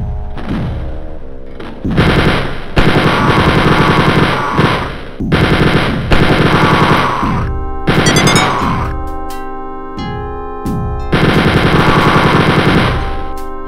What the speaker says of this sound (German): Die schießen auch schon aus Winkeln,